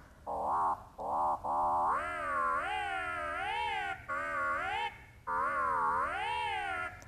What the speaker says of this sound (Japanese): 筆先の速度をエンジンの音風にマッピングして表現しています。